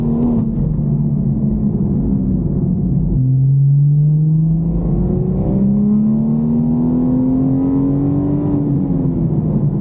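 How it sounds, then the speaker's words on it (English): A 440 hp BMW M240i engine revving under throttle, a loud close rumbling tone that drops sharply as the gear changes, then climbs steadily again as the revs build, with no talk. "That was just me feeding on the throttle."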